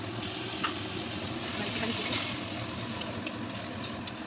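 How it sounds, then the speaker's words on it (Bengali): A thick onion and poppy seed paste is stirred in a pan, giving a steady, soft scraping and low sizzling texture with a few faint clicks of the spoon against the pan; no talking. "পোস্ত দিয়ে ভালো করে আবার একটু নাড়াচাড়া করে নিই"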